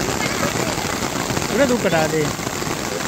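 Steady rain falls on surfaces during the monsoon season, a dense continuous hiss throughout, with a person speaking briefly over it.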